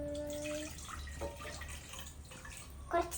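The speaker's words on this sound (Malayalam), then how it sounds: "സെക്കൻഡ് നമുക്ക് വെള്ളം നല്ലോണം ഒഴിച്ചേക്കാം." Water is poured into a small cooking pot for Maggi noodles, giving a faint, close trickling and splashing with a few brief bright ringing tones and a louder splash near the end.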